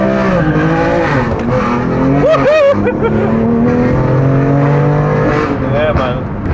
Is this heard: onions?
no